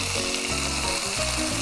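Western King Wrasse fillet frying in a pan, giving a steady, close sizzle that carries evenly through the whole short stretch, with no talking.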